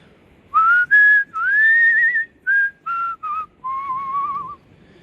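A person whistles a slow, wavering tune in a series of short and drawn-out notes, loud and close with no talking, used to warn off bears while hiking in Yosemite National Park.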